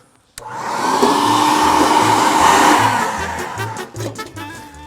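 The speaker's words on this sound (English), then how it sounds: "You can also vacuum up the insides of your vents" A vacuum cleaner starts abruptly and runs loud and steady while sucking debris from inside a home air vent, its whine wavering slightly before tapering off near the end.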